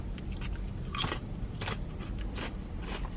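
Sour cream and onion potato chips being bitten and chewed up close, several sharp crunches spaced through steady, crackly chewing.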